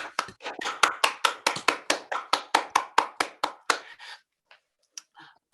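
Participants in an online meeting clap through unmuted microphones, a close, even rhythm of about fifteen crisp hand claps followed by a few scattered faint claps.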